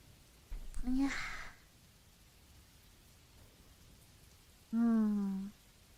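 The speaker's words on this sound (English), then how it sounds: "The sound of the rain." Steady rain falls as a soft, constant hiss in the background throughout, while a voice speaks two brief phrases over it.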